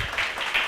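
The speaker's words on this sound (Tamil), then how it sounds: "கைத்தட்டுங்க" A church congregation clapping hands at a night Bible study: a brief burst of many hands in loud, uneven applause swelling twice.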